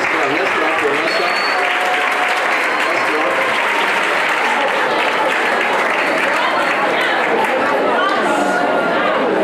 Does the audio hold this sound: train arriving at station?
no